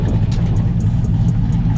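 A twin-turbo LS V8 with a 6.0/5.3 swap and hydraulic clutch conversion in a Caprice or classic car rumbles steadily and loudly up close, a continuous throaty engine drone with no talk over it.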